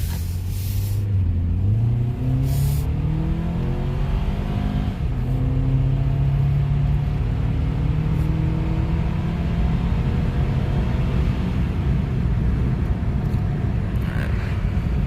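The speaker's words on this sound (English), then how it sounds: "the majority of the noise that I hear is coming from the actual exhaust underneath the car" A 7th-generation Honda Accord 2.4 with a modified intake pulls up a very steep hill, exhaust droning underneath as engine pitch climbs through several gear changes, a steady, moderately loud interior rumble without talking.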